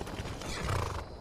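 The horse Shadowmere in the video game Skyrim neighs once, a short and fairly faint whinny heard alone with no talking.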